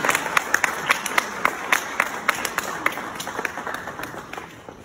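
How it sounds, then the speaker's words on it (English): A modest audience at a Black History keynote event gives a round of applause, with scattered, fairly faint clapping and distinct individual claps standing out over a soft crowd murmur. "Give him a round of applause"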